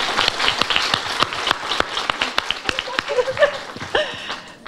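Crowd applause at an International Women's Day celebration in Schoonhoven, made of sharp, separate claps at moderate distance, thinning out over several seconds, with some voices mixed in.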